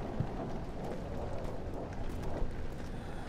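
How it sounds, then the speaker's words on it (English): Thunder rolls through a storm in the horror game Amnesia: The Dark Descent, a low, continuous rumble with a rain-like hiss that swells slightly around the middle and stays steady throughout. "Nice weather. It's thundering."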